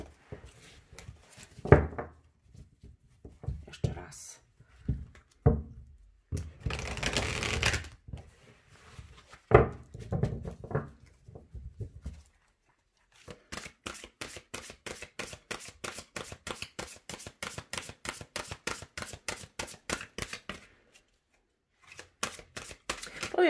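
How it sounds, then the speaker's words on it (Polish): Tarot cards are shuffled by hand, first in scattered bursts of slapping and sliding, then in a long, rapid riffle of crisp clicking card flicks, close and moderately quiet, with no talking. "karty się nie chcą tasować"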